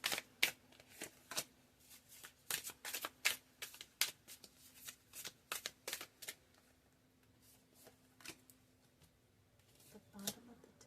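An oversized deck of tarot cards is shuffled and split by hand, giving quiet, close, irregular bursts of riffling and card slaps separated by short pauses, with a soft voice speaking between them.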